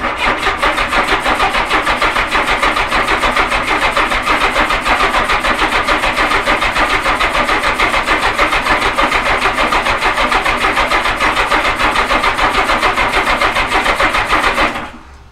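A 1981 Honda Goldwing motorcycle engine runs steadily and loudly for the whole stretch, a dense, even drone with a rapid pulsing texture, cutting off abruptly right at the end.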